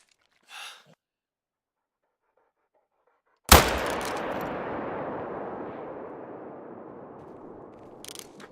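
A single sharp rifle shot cracks out in a hunting video game, fired from a prone position at a deer about 300 meters away, followed by a long decaying echo rolling across open terrain; a short breathy sound comes earlier.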